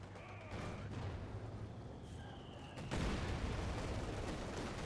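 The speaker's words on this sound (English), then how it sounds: "mortar barrage in the base." Mortar barrage striking a base in a strategy war game, with a steady rumble of distant blasts and gunfire that grows louder and denser partway through, no talk over it.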